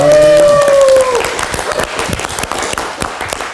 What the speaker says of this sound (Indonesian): tepuk tangan dong untuk Mas Ruby